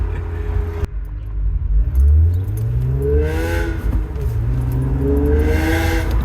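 A Honda Civic RV6 fitted with a J-pipe revs repeatedly with a raspy, droning exhaust note, rising and falling in pitch, loud and close, raspiest around 3,000 rpm.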